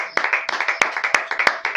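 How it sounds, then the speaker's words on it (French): A church congregation at a thanksgiving service claps together in a quick, steady rhythm, loud and close, with a brief spoken voice mixed in. "On acclame pour la parole du Seigneur."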